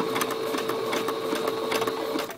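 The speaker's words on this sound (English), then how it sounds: "you're going to run them through the sewing machine" A sewing machine runs fast and steadily, zigzag stitching ribbon for a big spandex cheer bow, its rapid mechanical whir and needle clatter close and continuous with no pauses.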